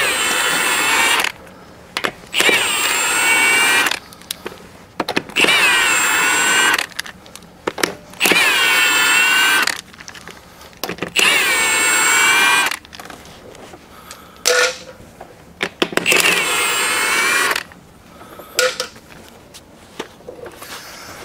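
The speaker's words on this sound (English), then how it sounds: "Go ahead and zing off all your lug nuts." Impact gun zips off 21 mm lug nuts from the wheel hub of a Ford Super Duty 4x4 truck in a series of about eight loud, close bursts, each a second or two long with short quiet gaps between them.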